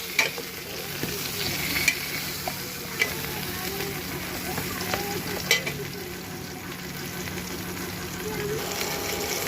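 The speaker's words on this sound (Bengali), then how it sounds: "দেওয়ার পর পটলটা ভালো করে নেড়ে দিলাম।" Pointed gourd sizzles in oil in a frying pan with salt and turmeric while a spatula stirs it, giving a steady close sizzle with several sharp scraping clacks of utensil against pan.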